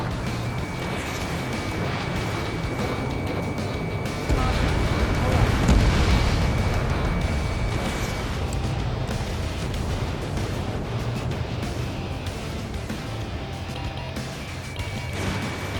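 Explosions from a destroyed target in the jet combat game Ace Combat 7, flying an F-14 on a pipeline destruction mission: a dense, continuous roar of blasts and rumble swells near the middle, with radio chatter voices over it.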